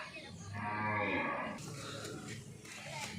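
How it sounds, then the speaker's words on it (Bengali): A Sahiwal bullock about sixteen to seventeen months old gives one long, drawn-out moo close by, followed by quieter background noise. "এই দুই নম্বর গরুটা এটা একটা সাহিয়াল জাতের গরু"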